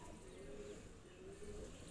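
A female Shaki pigeon cooing, a faint low steady coo over quiet background with no talk.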